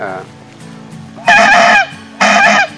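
Two loud, buzzy honking blasts from a homemade trumpet made of used foam with a membrane, each about half a second, following a short stretch of softer tone.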